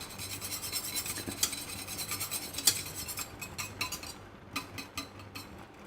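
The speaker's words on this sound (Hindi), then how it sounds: "लेकिन मैं इस पर अब ये विस्क चलाऊँगी अच्छी तरह" A whisk scraping and stirring strawberry jam in a cooking pot, a steady close raspy rubbing with faint metallic clinks, continuous and alone.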